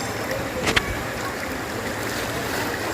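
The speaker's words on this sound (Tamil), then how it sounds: "தண்ணியோட சவுண்ட் வந்துட்டு பார்த்திங்கனாக்கா கண்டிப்பாக வந்துட்டு ரொம்ப ஃபோர்ஸாக வர மாதிரி தான்." Rushing water from Kanching rainforest waterfall near Rawang, Malaysia, forms a steady broadband roar throughout, with a brief sharper splash or knock near the start.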